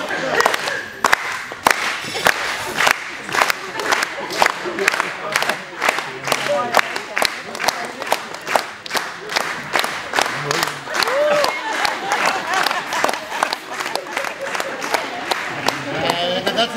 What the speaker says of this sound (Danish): Og så klapper vi her.